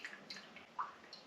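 Water draining out of Phalaenopsis orchid pots, a few soft, close drips and small gurgles spread over a quiet moment.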